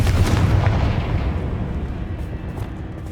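Hogwarts Legacy Confringo blast spell explosion: a heavy, loud low-end boom that hits at once, then rumbles and slowly fades over a few seconds. No voices are heard.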